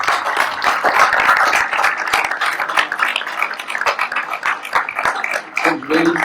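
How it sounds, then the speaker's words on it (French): An audience claps in tribute at a gathering of farmers, dense steady applause from many hands filling the room, fading slightly near the end as a voice briefly comes in. "en hommage à Erwan, je voudrais que vos applaudissements aillent vers lui"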